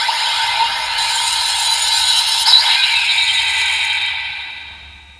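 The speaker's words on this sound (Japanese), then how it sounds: "ちゃんと龍河の変身音になってますね" The CSM V-Buckle Kamen Rider Ryuga toy plays its transformation sound, a bright, dense, electronic burst that holds for several seconds and then fades out, with no voice over it.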